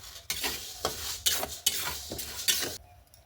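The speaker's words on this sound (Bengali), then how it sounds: "মুগ ডালটা ভালো করে ভেজে নেব" Moong dal is dry-roasted in a pan for winter khichuri, stirred with repeated rhythmic scrapes and rustles against the metal, each stroke rising and falling at a steady pace.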